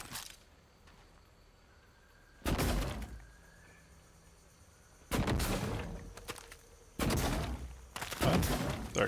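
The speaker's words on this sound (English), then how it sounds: "grab our glue cannon" A GLOO cannon in the video game Prey (2017) fires in several loud, sharp bursts spaced a few seconds apart, with quiet hum between them.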